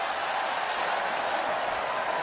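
An NBA arena crowd roars at Moritz Wagner's free throws, a steady, dense wall of cheering and noise that holds for the whole moment without any break.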